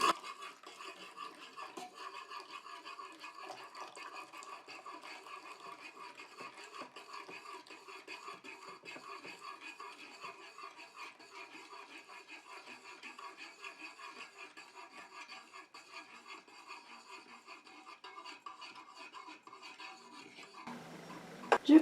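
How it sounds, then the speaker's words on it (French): Oil and water phases of a conditioner emulsion are stirred together in a container, making a continuous soft rasping, scraping swish that repeats at an even pace for a long stretch and ends with a louder knock. "Je continue à mélanger comme ça jusqu'à ce que mon émulsion épaississe et refroidisse."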